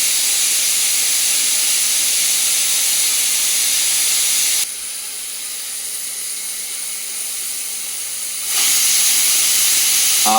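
A pressure cooker whistle blasts loud, continuous hissing steam, drops away for a few seconds into a quieter hiss, then surges back to full force.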